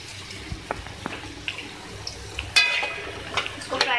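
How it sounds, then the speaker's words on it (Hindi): Cubed bottle gourd (lauki) frying in oil over medium heat, a soft sizzle with scattered clinks of a utensil against the pan, light and close. "देखिए इसको मीडियम आंच पे जो है मैं फ्राई कर रही हूँ"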